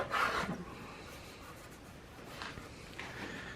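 A single cut half round file held off its handle rasps across wooden gunstock, a few short scraping strokes, the first loudest and the rest softer, close up and with no talk.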